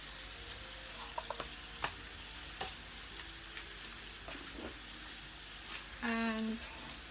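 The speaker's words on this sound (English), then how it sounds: "Now I'm going to add caraway seeds," Caraway seeds fry in a pan with a soft steady sizzle, punctuated by scattered sharp pops and clicks and a brief tonal clink near the end.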